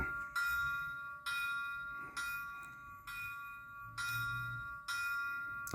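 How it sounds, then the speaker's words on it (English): A model locomotive bell from a Tsunami 2 sound decoder in an Athearn Genesis MP15AC rings steadily in even metallic dings, about one per second, quiet and alone. "just turn the bell on"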